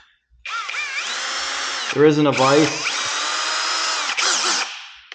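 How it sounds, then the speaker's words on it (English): A power drill bores into metal motorcycle parts in a workshop, with a loud, steady whine that runs for several seconds, dips briefly and then resumes. Someone speaks briefly over the motor. "Now I'm just going to drill them up."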